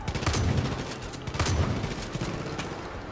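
Far Cry 5 video game gunfire rattles in loud, dense bursts of rapid shots, with repeated volleys over a few seconds of close-range combat.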